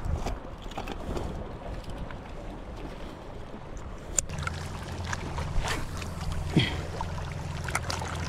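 A boat crosses open water near an island shore, its low steady motor drone rising partway through over wind and water noise, with no talk.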